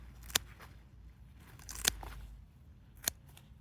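Crisp cuts through beet stalks and leaves come as three sharp snaps spaced about a second apart, close and clear over a quiet background.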